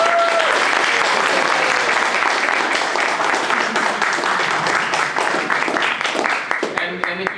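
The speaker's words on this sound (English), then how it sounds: "Round of applause. Your round of applause then will now be measured." A meetup audience at a Bay Area software defined radio gathering breaks into a sustained round of applause, dense clapping filling the room for several seconds, with a brief tone at the start and the clapping thinning toward the end.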